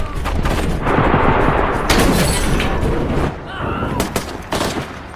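Gunfire from Turkish troops in an action film battle against ISIS fighters after an explosion, a dense, loud sustained barrage of shots and blasts filling the whole stretch with brief dips.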